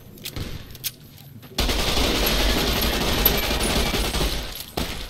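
Rapid automatic gunfire from the video game Fallout New Vegas, a loud sustained burst that starts abruptly after a quieter stretch with a few single shots and continues for several seconds.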